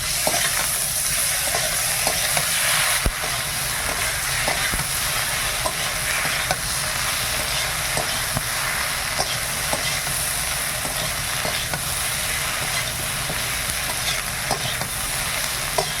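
Mixed vegetables fry with ginger in a hot pan, giving a constant close sizzle broken by regular light taps and scrapes of a stirring spoon.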